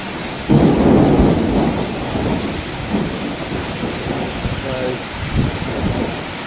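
Heavy rain pours during a thunderstorm onto a house roof with a slab, and a loud thunder rumble breaks in early and fades into the steady hiss of the downpour.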